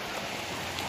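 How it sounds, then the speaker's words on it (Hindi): Steady heavy rain hisses in a dense, continuous wash, with no pauses or voices. "इतना सारा बारिश देता है यहाँ पे"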